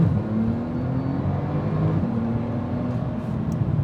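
A Porsche 911 Turbo of the 991.1 generation, with a twin-turbo 3.8-liter flat-six, pulls hard under acceleration: a steady, loud engine drone whose pitch climbs, dips at one point, then climbs again, heard up close without talk.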